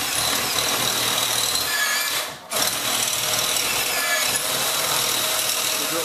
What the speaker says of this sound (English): we're going to drill through one of these mortar joints